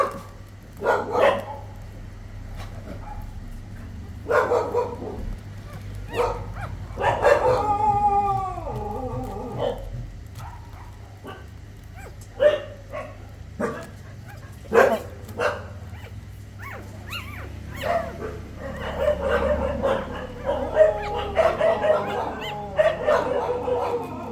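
Dogs at a home where a litter of ten puppies has just been born bark, yip, whimper and howl in repeated bursts over a low steady hum, close and fairly loud.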